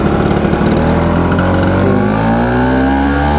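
Vintage two-stroke motorcycle revved hard, its buzzy ringing exhaust climbing steadily in pitch and loud throughout, with no voices.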